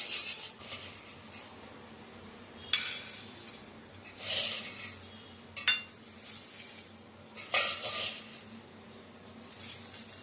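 Spoon stirring a potato mixture with curry leaves and peanuts in a pan, quiet scrapes and a few sharp metallic clinks spaced irregularly over a faint background.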